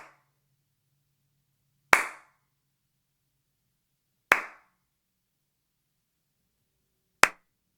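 Three crisp hand claps, spaced about two and a half seconds apart, in a home studio room treated with acoustic absorption panels, each dying away almost instantly with little echo.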